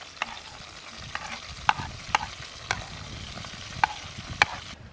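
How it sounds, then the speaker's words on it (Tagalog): Onion and garlic sautéing in a little oil for paksiw na pata, a soft sizzle under sharp, irregular scrapes and taps of a spatula stirring the pan, close up with no voices. "Lagay ko lang tong sibuyas at bawang."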